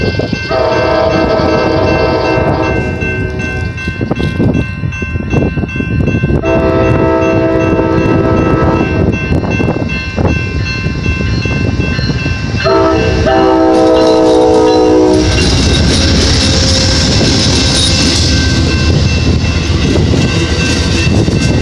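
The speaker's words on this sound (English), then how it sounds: "Amtrak number 5. On track 2, we'll be switching to track 1." Amtrak number 5 passenger train passing at West Sacramento while switching from track 2 to track 1, loud and close, with three long horn blasts over a continuous rumble of wheels and cars rolling by.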